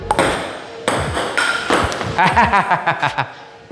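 A table tennis ball is struck and bounces at a resort table, giving sharp ringing pings in bursts that quicken into a rapid rhythmic series toward the end, near and clear.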